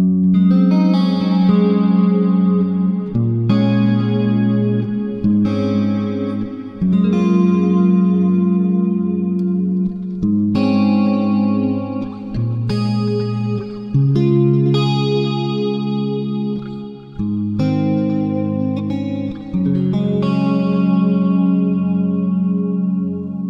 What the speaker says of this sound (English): if you have a humbucker guitar, you can add a different sort of hi-fi sound going behind your main clean tone